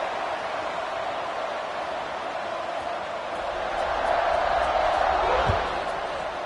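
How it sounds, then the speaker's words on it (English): Loud, dense football stadium crowd buzzing in a broad wash of cheering noise, swelling slightly near the end, with no clear voices over it. "this crowd is buzzing after that last score"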